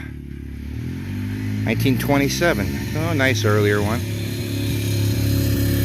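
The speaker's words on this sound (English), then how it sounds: "Sorry about the noise. Some kids driving up and down the road on quads" A steady low engine drone from quad bikes driving up and down a road runs beneath someone speaking, a constant rumble in the background.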